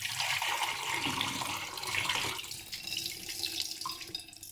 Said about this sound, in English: So I've just put a little bit of water in here just to rinse out any remnants left at the bottom.